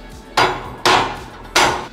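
Three sharp, ringing hand-hammer blows on hot metal while fabricating a custom car hood hinge, evenly spaced with short pauses, close and loud, with no talking.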